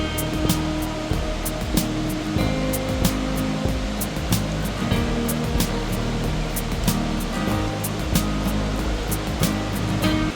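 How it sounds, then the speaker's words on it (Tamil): The Agaya Gangai waterfall in the Kolli Hills, falling about 300 feet, roars in a steady, dense rush of water, loud and close, with faint scattered clicks and taps over it. "அருவிக்கு கிட்ட போகும்போது அந்த அருவியோட சத்தமே வந்து நம்மளுக்கு கேட்க ஆரம்பிச்சிடும்"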